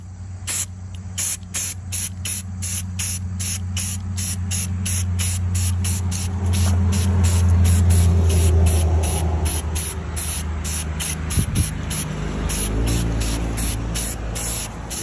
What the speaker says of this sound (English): we'll give it some of the Rust-Oleum gloss blacks. Give it the tss